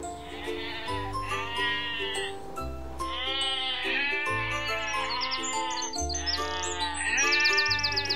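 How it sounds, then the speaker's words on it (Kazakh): Domestic sheep bleat in repeated, drawn-out calls, several in a row, heard close and clear over a steady musical backing. "Қой."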